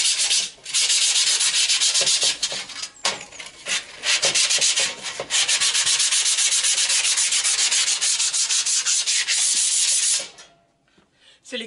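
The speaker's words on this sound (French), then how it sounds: "c'est fou ce que c'est passionnant à poncer" Steady sanding of a car body's front grille panel, a continuous loud abrasive rasping with brief pauses and strokes, ending in near silence.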